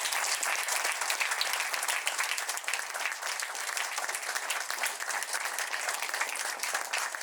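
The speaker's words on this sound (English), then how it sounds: "Can we give them a big round of applause?" Audience applause at a pre-primary school annual day, a dense, even roar of many hands clapping, loud and sustained without a break for the full stretch.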